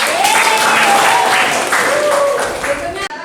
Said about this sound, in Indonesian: tepuk tangan buat Tasya.